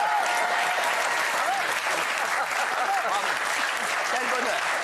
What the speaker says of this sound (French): Applaudissements, je vous prie.